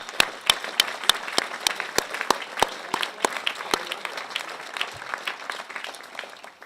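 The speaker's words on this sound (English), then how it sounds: "Just a moment of applause for all of those people here who've supported you so much." Commencement audience at the University of Virginia School of Law applauding graduates' supporters, a dense round of clapping with sharp individual claps standing out, sustained and fairly close, no talking.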